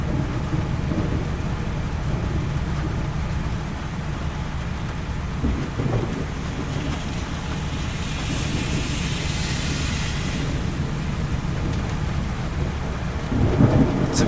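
Thunder from a nearby lightning strike rumbles through a heavy Florida storm, with steady rain hissing throughout and a louder crack of thunder swelling near the end.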